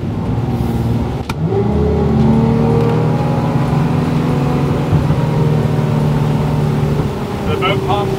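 Loud, steady outboard motor roar as a Cobalt R6 boat speeds up onto plane, engine pitch climbing and holding near 3,800 RPM, with rushing water and wind throughout.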